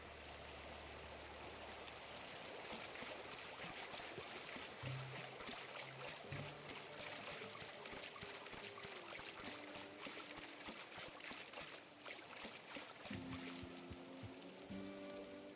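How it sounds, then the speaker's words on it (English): A waterfall on Monarch in the video game The Outer Worlds pours with a steady broadband rushing wash, moderately loud and continuous, while low game music tones shift underneath. "the waterfall's a good spot to wash your clothes"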